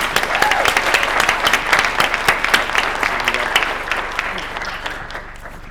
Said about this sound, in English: Big round of applause for all our state finalists